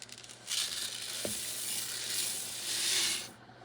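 Long rice is stirred into a hot pot for Haitian black beans and rice, giving a steady close sizzle and hiss that swells and fades over a few seconds, with a single brief scrape against the pot.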